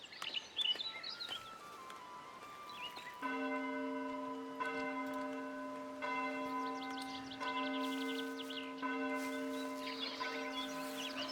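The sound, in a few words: church bell ringing in the video game Foundation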